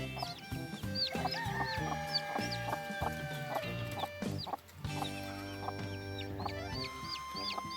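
A hen clucks steadily while many chicks peep in high, rapid bursts close by, a busy continuous chorus with no talking.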